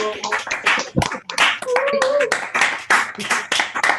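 Participants at an evening conference session clap, bursts of close, sharp handclaps in uneven rhythm mixed with voices talking and laughing.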